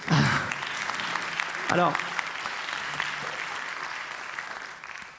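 Loud applause from a live audience fills the room, a dense, steady clatter of clapping that holds for several seconds and slowly thins, with a brief voice at the very start.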